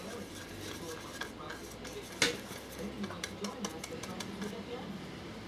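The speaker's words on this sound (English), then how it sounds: "Give that a little stir" Paint being stirred in a small pot for a vivarium background, soft scraping and light taps of a brush against the container, with one sharper clink, under a person talking quietly.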